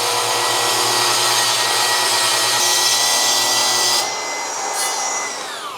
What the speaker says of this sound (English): I bring it up to speed, I bring it down, and I make the cut.